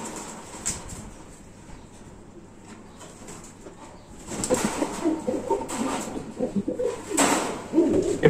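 Freshly bathed young pigeons at a loft are let go, giving a burst of wing flapping and soft cooing that grows louder midway and continues in bursts to the end, with no one talking.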